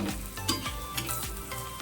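Laccha paratha roasting on a hot pan gives a steady, close sizzle, with soft bursts as the layered flatbread is pressed and turned.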